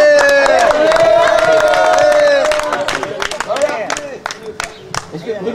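An audience at a French family ecology event breaks into loud clapping and cheering, the applause dense at first and then thinning into scattered claps, with voices and music-like tones mixed in.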